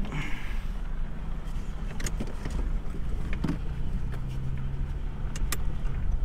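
A car drives along a road with a steady low engine rumble and road noise from inside the cabin, punctuated by small rattles and clicks.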